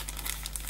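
Small paper pouch with cut-outs being handled and opened, a brief, faint, close crinkling and rustling of paper.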